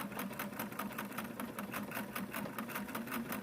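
A vintage Singer Model 337 sewing machine stitches steadily through overlapping pleated skirt layers, its needle chattering in a fast, even rhythm with a low motor hum, close and continuous throughout.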